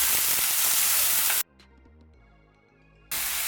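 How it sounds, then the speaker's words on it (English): Chopped onions sizzle in hot oil in a cast iron skillet, a loud steady frying hiss that cuts out abruptly for a couple of seconds of near silence and then resumes just as loud. "I'm using cast iron. And then we dropped our onions in and we're starting to cook them"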